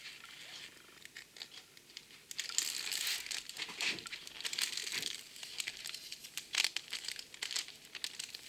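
Thin plastic packaging is crinkled and torn close by, with soft, quiet rustling that swells into brisker crackling bursts partway through.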